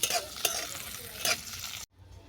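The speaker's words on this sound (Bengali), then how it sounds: "এটাকে আমি ভালো করে ভেজে নিচ্ছি।" Carrots and cauliflower fry in a pan with a close, hissing sizzle and a few scraping stir strokes, then the sound cuts off abruptly near the end.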